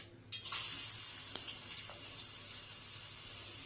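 Onions for Egyptian koshari dropped into hot oil, setting off a sudden steady sizzle that continues evenly at moderate level, with a couple of light stirring taps.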